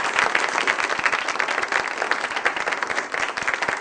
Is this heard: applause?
yes